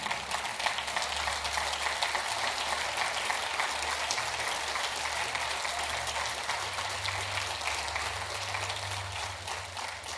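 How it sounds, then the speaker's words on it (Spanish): Applause from a church congregation during a sermon, a steady, dense wash of clapping holding at an even level throughout with no speech over it. "Aplauda con ganas."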